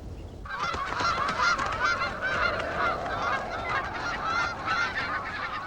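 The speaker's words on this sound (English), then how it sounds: "The geese are nearing the end of their journey from the south." Migrating geese honk continuously in a dense, overlapping chorus as they fly north between high peaks of Alaska's Brooks Range in early June, loud and close with many birds calling at once.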